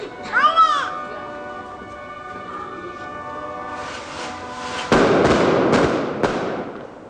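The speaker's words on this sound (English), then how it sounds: "The daytime fireworks seem strange at first." Daytime fireworks burst during Spanish Holy Week, a whistling rocket rising early, then a loud blast with sharp crackling reports echoing outdoors amid crowd murmur and talking voices.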